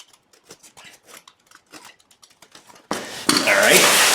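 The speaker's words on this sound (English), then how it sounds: "Slice this tack tape along the edges here." A knife slices through tack tape on the packaging of a safety pool cover for an in-ground pool, giving a sudden loud, sustained scraping rip that follows a stretch of someone talking.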